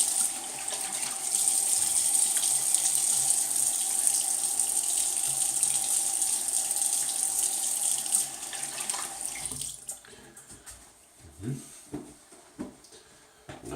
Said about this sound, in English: I'll just rinse off here real quick.